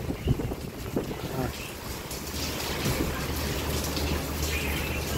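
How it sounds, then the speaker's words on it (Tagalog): Strong typhoon wind roars and buffets the microphone steadily, with rushing noise throughout and a few brief voices or knocks early on. "Oh, yan ang lakas ng hangin."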